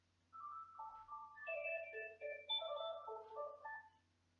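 Telephone ringtone playing a bright electronic melody of stepped tones for about four seconds, clear and alone against a silent background, then stopping.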